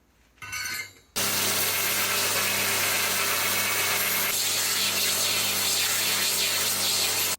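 Bench grinding of a forged steel socket: a short burst of grinding, a brief pause, then a sustained loud grinder whine with a steady motor hum that runs without a break for several seconds.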